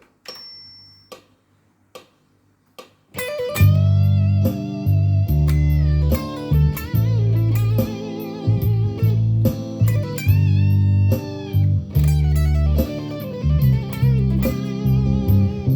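Electric guitar plays a melodic line over a full backing track with drums and bass, after a few quiet clicks and a brief tone at the start.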